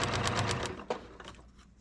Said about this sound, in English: Let's go, sewing machine.